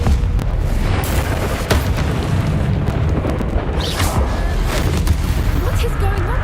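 A Confringo spell blasts in the wizarding game Hogwarts Legacy, a dense, rumbling explosive roar that continues throughout, with a voice speaking over the combat noise.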